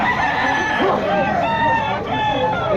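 A Sweater gamefowl rooster crows at a busy pet market, a loud nearby cock-a-doodle-doo with clucking and chatter from people around it.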